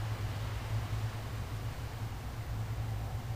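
Steady static hiss in the horror game Slender: The Arrival, a faint, even wash of noise with a low hum beneath, unchanging throughout.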